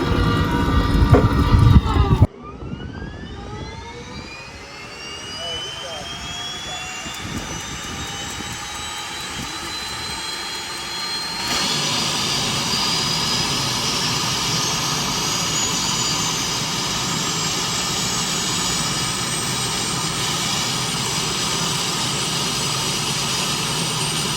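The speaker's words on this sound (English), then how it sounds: "Let's fire this airplane up." Pilatus PC-12 turboprop engine starting up, a rising whine spooling over several seconds into a steady loud roar that steps up further in power and holds constant close by, with no talking.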